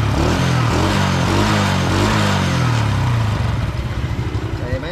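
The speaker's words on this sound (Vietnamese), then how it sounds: "Đó, anh em nghe tiếng bô nữa nè. Rất là êm nha anh em." A Honda Dream Thai 125 motorcycle idles with its exhaust running, a loud, close, steady low engine rumble that stays smooth, then slightly falters and pulses toward the end.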